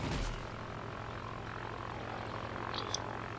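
Propeller engines of fighter planes, including a lone P-12 biplane and a Hawk III, drone steadily in World of Warplanes aerial combat, a continuous low engine hum with a brief burst at the start and faint high chirps near the end.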